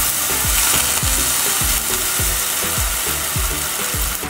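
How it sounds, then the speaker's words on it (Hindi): Close, continuous sizzling of mustard seeds and cumin crackling and popping in hot oil with curry leaves, a rapid run of small snaps and a soft rhythmic thumping underneath. "राई चटक गया है, जीरा भी हल्का ब्राउन हो गया है"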